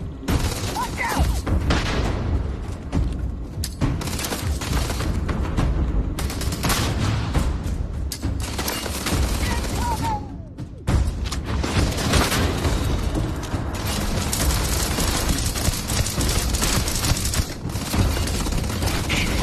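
Grenade blasts and rapid gunfire in the video game Starfield, with dense bursts of shots and booming explosions running almost without pause, loud and close, and a brief lull around the middle.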